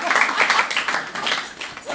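An audience claps warmly at a talk with artists Helen O'Leary and Charles Tyrrell, marking the anniversary of a first Dublin exhibition; the scattered, fluttering applause runs under overlapping voices.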